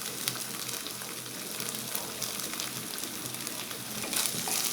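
Ginger paste, garlic paste, tomato paste and spices frying with onion in a pan for an Ayer fish curry, a soft, even sizzle running steadily throughout with faint occasional clicks.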